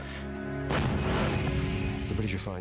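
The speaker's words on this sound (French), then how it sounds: "Plus de 1500 canons entrent en action." Massed artillery barrage from over 1,500 cannons at the Battle of the Somme in 1916, heard as a loud, dense, continuous roar of overlapping blasts and crashes that surges in after a brief sustained tone.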